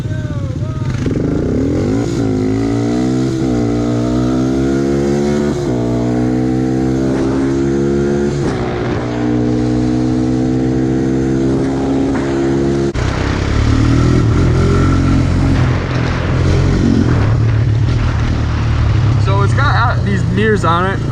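A Honda Recon 250 ATV drag racing a Honda 250EX, loud engines revving and accelerating through rising, stepped pitch sweeps, close and continuous throughout.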